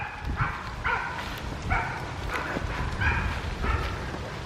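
Faint, distant barks from a Mini Australian Shepherd repeat in a loose rhythm, about six short yaps over a low rumbling outdoor background.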